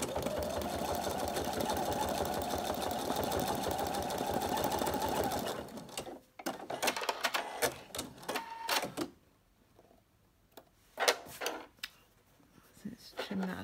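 A sewing machine doing free-machine embroidery hums in a steady, loud stitching whir for about five seconds, then stops, leaving scattered clicks, snips and handling noises with talk during the quieter stretch.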